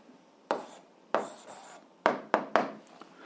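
Pen or chalk strokes on a board in an 8th-grade algebra lesson: two separate strokes followed by a quick burst of three, close and soft, with no voices.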